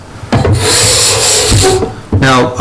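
Card scraper drawn across wood to lift thin curly shavings, three loud close rasping strokes, each a broad scraping rush lasting about a second.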